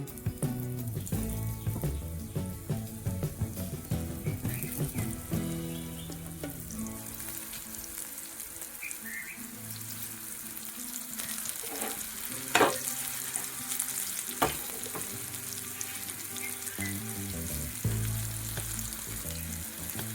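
Bitter gourd pieces frying in hot oil, a steady dense sizzle running throughout with a few sharper crackles and pops, close and fairly loud, with no talking.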